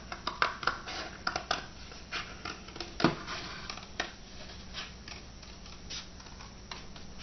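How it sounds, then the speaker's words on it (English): Soft, irregular snipping and paper rustling close by as scissors cut a circle from folded paper, a scatter of small crisp cuts with quiet pauses and no talking. "I'm just going to create 2 circles by just cutting out 1 circle"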